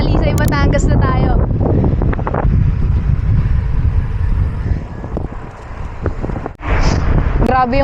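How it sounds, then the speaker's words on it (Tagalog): Strong wind gusts buffet a cyclist's microphone on a bike ride near Talisay, Batangas, a loud continuous roaring rush with surges, while someone talks over it at the start. "Grabe yung hampas ng hangin."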